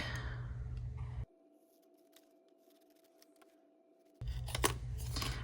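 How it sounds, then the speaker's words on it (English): Scissors cutting out a printed paper budget planner sheet, with crisp snips and paper rustles standing out against a quiet hum between louder noisy stretches at the start and end. "Let's just cut this out real quick."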